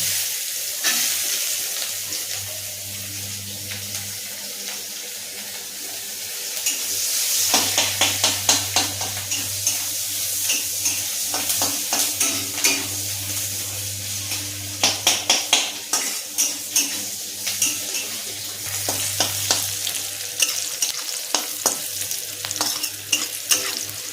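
Chopped onion sizzles in leftover fish-frying oil with black cumin seeds for a Bengali rupchand fish curry. A steady frying hiss runs under repeated sharp metal spatula scrapes and clinks against the pan, close and loud throughout.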